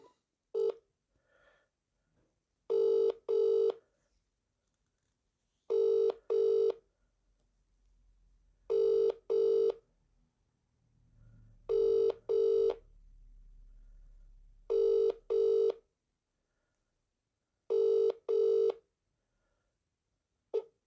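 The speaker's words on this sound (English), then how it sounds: "Ringing up Christopher Browell" A ringback tone on a call to a Vodafone mobile sounds in regular double bursts, repeating about every three seconds over a quiet line with faint low rumbling between.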